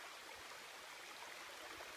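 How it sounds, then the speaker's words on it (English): River water cascading down a steep drop in a forest, heard as a steady, even broadband rush with no breaks, fairly faint and without voices. "the way the water's cascading"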